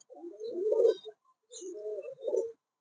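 Sherazi, or Lahori, pigeons cooing close by in two soft, throaty bursts separated by a short pause, against a quiet background.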